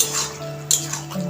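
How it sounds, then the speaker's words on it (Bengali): Paneer being stirred into a vegetarian chana paneer masala curry in a pan: a brief close scrape and clink of a spoon against metal over a low simmering background, with no voices. "পনিরগুলিকে নেড়ে মিশিয়ে নেব"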